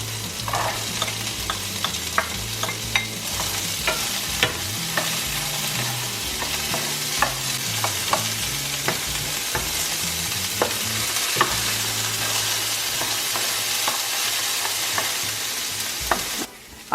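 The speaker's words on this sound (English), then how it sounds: "I have been sauteing the carrots and potatoes for about 3 minutes" Cubed carrots and potatoes sautéing in a pan for chicken vegetable pie, a loud, steady frying hiss with frequent light spatula clicks and scrapes throughout, ending in a short final knock.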